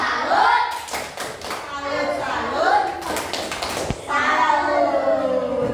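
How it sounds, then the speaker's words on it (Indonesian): A primary school class claps together in a classroom, with rhythmic group clapping mixed with children's chanting voices and a teacher talking. "beri tepuk salut"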